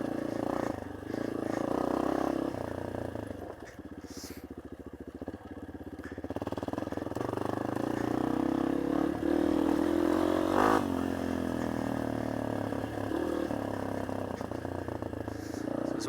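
A large motorcycle ridden off-road, its engine droning steadily with rough, rising and falling revs, mixed with clattering and scraping noises, close and loud throughout.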